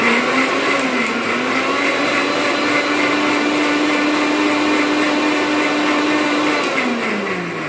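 A blender grinds seeded watermelon pulp in a steady, loud whir that holds its pitch, with the motor note rising at the start and sagging as it winds down near the end.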